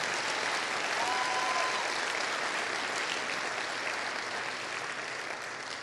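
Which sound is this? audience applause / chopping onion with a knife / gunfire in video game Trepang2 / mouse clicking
audience applause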